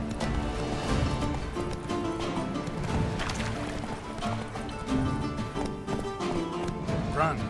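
Roach the horse gallops steadily in The Witcher 3, hooves clip-clopping in a continuous rhythm under a dense bed of music and ambience.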